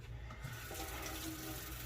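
Water sloshing and rubbing as a scrubbed sneaker is rinsed in cool to slightly warm water, a close, steady wash of splashing with no voices.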